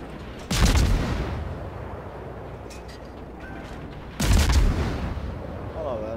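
Warship guns fire in the World of Warships video game: two heavy booming salvos about four seconds apart, each a loud broadband blast that decays into a rumbling tail.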